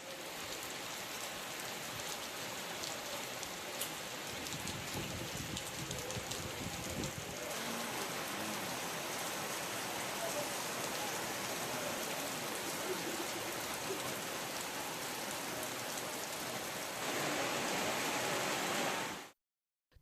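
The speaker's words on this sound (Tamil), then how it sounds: "புதுக்கோட்டை நகர பகுதியில் 1/2 மணி நேரத்திற்கும் மேலாக பலத்த மழை கொட்டியது." Heavy rain pouring over the town of Pudukkottai, a dense, steady hiss of downpour on surfaces throughout, growing a bit louder near the end before cutting off.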